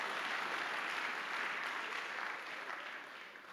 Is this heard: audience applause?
yes